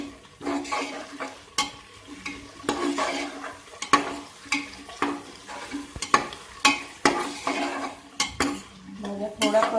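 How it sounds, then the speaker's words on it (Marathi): Tondli, peas, cauliflower and carrot for masala rice are sautéed over a medium flame, with a steady soft sizzle and repeated scraping, clattering strokes of a spoon stirring against the pan. "भाज्या थोड्या परतून घ्यायच्या."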